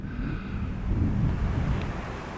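Wind blows across exposed cliff tops at Bennan Head, a steady low rumbling buffet against the microphone, with no voices.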